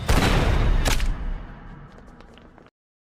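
Gunfire in an action crime film: a loud burst of shots up front, a sharp second crack just under a second in, then a rumbling tail that fades over the next two seconds and cuts off.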